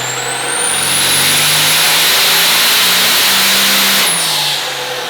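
A twin-turbo 12-valve Cummins diesel pulling-truck engine on a dyno revs up in a long, loud, sustained pull with a rising turbo whistle, then drops off sharply near the end.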